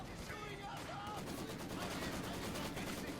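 A Maxim machine gun rattles away in a Company of Heroes 2 battle, with steady rapid bursts of distant gunfire mixed into busy battlefield noise while a voice speaks over it.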